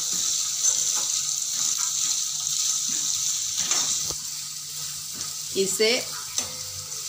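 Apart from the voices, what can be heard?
finely chopped onion frying in a pan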